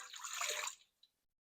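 Warm water being poured into a bowl to start a bread sponge, a short splashing gush under a second long that ends abruptly, followed by a single faint drip.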